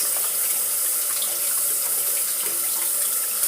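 Tap water running steadily over houseplant roots being rinsed clean of soil, a close, continuous hissing stream from start to finish.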